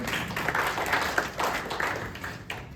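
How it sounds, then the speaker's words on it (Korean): Steady applause from an audience at a Korean National Assembly infrastructure forum, dense overlapping claps holding at a moderate level throughout. "박수 부탁드립니다"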